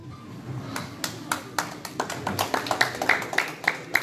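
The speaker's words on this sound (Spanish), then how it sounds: "Vamos a recibirlo con un fuerte aplauso." Scattered audience clapping greets a sports director at a club award ceremony, a sparse, uneven patter of separate hand claps that builds slightly in density and stays fairly close.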